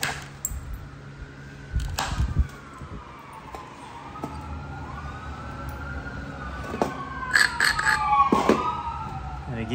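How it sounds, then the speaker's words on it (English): Siren wails from a busy road rise and fall across the clip, moderately loud with passing traffic noise beneath, a few clicks and knocks nearby from flintknapping an arrowhead. "I live by a busy road, so expect the sirens."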